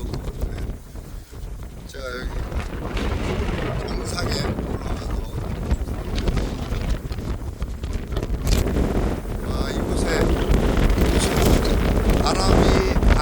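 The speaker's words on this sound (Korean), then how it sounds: "엄청난 바람입니다" Strong gusts buffet the microphone at the top of Suwolbong peak on Jeju, a seaside cliff, with a constant roaring wind rising louder toward the end while a person speaks over it.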